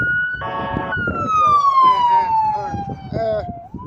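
An ambulance siren wails in a steady, falling sweep that stays loud and close for about four seconds, with traffic noise and faint voices underneath.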